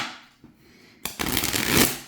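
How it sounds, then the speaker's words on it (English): A deck of tarot cards being shuffled by hand, a brief soft shuffle followed by a louder riffle of cards slapping together for about a second, close and alone. "and just to show how nice it shuffles."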